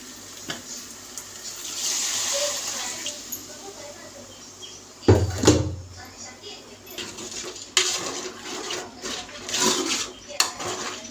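Cooking water from a pressure cooker is poured into mutton gravy in a pot, a short splashing pour followed by gurgles and clinks of utensils against the vessel.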